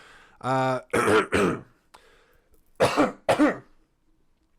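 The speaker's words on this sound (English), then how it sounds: "Why do I have to cough? Stop it. Stop coughing." A person coughs and clears their throat in several close, loud bursts, a harsh rasping clear followed by pairs of hacking coughs with short silent gaps between.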